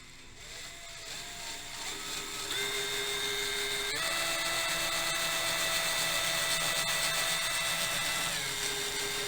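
A power drill bores through a wooden board while working on a Kalamazoo guitar neck, a steady whining motor tone that shifts pitch in steps, loud and close, running continuously with no talk.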